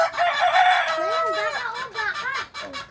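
A rooster crows loudly and close by in a long, wavering call that rises and falls, followed by shorter clucking notes.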